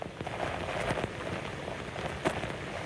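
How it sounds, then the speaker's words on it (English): Heavy rain from Hurricane Zeta's rain bands in Pascagoula, Mississippi. It pours as a dense, constant wash with a few louder gusty bursts, and no voices. "And Felicia, you now are getting into some of those pretty intense rain bands."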